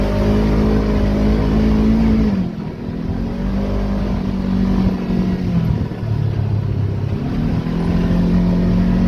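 A Kawasaki KRX 1000 UTV engine drones loud and close with steady, throaty revving, rising and dipping briefly near the middle before holding a strong, continuous note with no talk.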